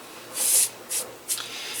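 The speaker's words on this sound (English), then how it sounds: "just take the side of your brush, this part of your brush, and just kind of rub them in" Soft, breathy scrubbing strokes as the side of a paint brush rubs white paint streaks into wood on a faux wood Christmas tree, three short passes close up.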